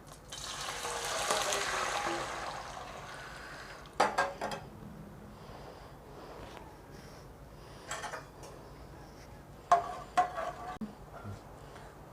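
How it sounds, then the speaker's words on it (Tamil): Boiled milk is poured into a pan of hot ghee for beetroot halwa, giving a soft rushing pour for a few seconds, followed by quiet pauses and scattered metallic clinks of the pan and utensils. "நெய் சூடான உடனே இந்த காய்ச்சின பாலை இதில் ஊற்றுறோம்."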